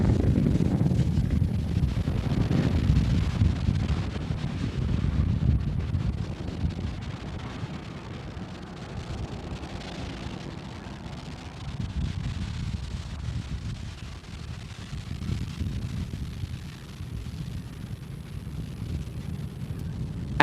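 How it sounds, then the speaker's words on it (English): A SpaceX Falcon 9 carrying a Cygnus cargo spacecraft lifts off from Space Launch Complex 40, a sustained, heavy, low rumbling roar that is broad and wind-like and steady throughout, with no voices. "Falcon 9 and Cygnus take flight"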